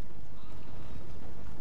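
Cavalry horses in a Total War video game battle set in feudal Japan, heard as a dense, continuous rumble of many hooves amid loud battlefield noise, with no clear individual hoofbeats.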